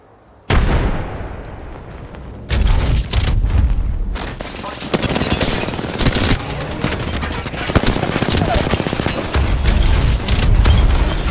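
A frag grenade blast lands amid a video game firefight, with a heavy boom over dense bursts of automatic gunfire and popping shots, loud and near, with voices talking over the noise.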